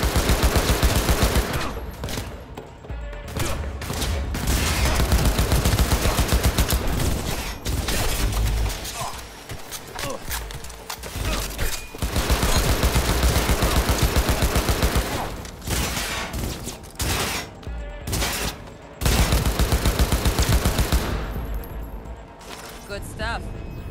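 Ranged-weapon gunfire in Cyberpunk 2077, loud dense bursts and rapid volleys with brief pauses between, close and heavy, mixed with mechanical clatter and occasional talk.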